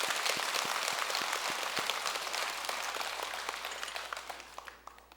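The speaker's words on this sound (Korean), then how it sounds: "우리 스스로 박수 한번 칩시다" A crowd at a Buddhist dharma talk at Jogyesa Temple applauds with many hands clapping, dense at first and then thinning out and fading over several seconds.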